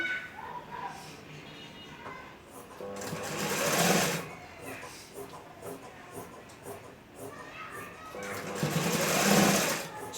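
A sewing machine stitches a kunchigi, a hooded garment, in a steady whirring run with two louder bursts of fast stitching, and a voice can be heard faintly beneath it.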